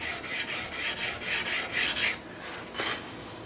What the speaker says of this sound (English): just keep scraping and rubbing until you get all those marks out